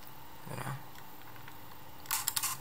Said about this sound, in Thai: เห็นไหมครับชัตเตอร์เปิดนะ